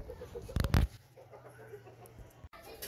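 A large breeding rooster gives a couple of loud, close clucks near the start, then a quieter farmyard background follows with faint other sounds.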